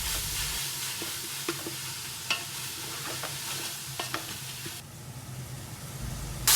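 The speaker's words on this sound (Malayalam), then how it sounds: "ഇത് നന്നായിട്ടൊന്ന് ഇളക്കി മിക്സ് ചെയ്യാം കേട്ടോ" A kilo of chicken coated with coriander powder and garam masala hisses steadily in a pan, broken by scattered taps and scrapes of a stirring spoon at moderate volume.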